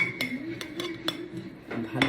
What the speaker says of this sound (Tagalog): Haluin natin para mag-mix siya.